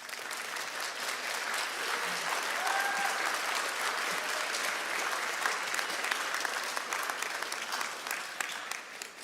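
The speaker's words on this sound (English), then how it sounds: "give them a round of applause for their support" Continuous applause from the audience at a nursing college graduation ceremony, an even, moderately distant wash of many hands clapping that holds steady throughout.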